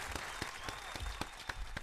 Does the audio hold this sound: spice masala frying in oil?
no